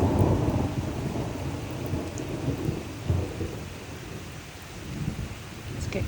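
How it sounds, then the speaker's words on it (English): Thunderstorm in a garden, with heavy rain hissing steadily and low thunder rumbling in rolling swells throughout. "Got a nice storm going on, heading my way."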